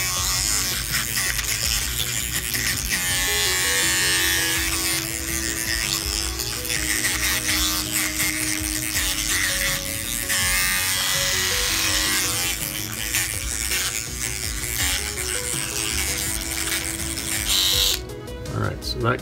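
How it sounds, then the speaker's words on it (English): A small electric toothbrush buzzes steadily up close, its whine wavering as it scrubs against a hard battery cover. "we're just gonna use a little electric toothbrush on it here to get that stuff off of there"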